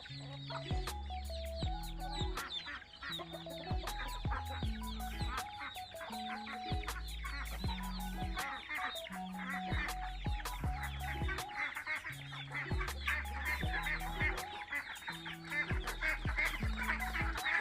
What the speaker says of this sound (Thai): เสียงเป็ดเสียงไก่อาจจะดังนิดหน่อยนะครับ